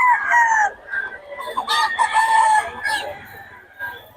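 Game fowl roosters and hens for sale crow loudly and cluck close by, with crows overlapping in quick bursts.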